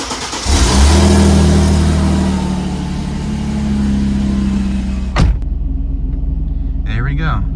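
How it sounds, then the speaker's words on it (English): A Mercedes-Benz C32/E55 AMG engine cold-starts with a brief crank, catches into a loud rev, then settles into a deep, steady high idle before a sharp clunk and quieter running, with a voice briefly heard. "I'll give you guys a cold start here."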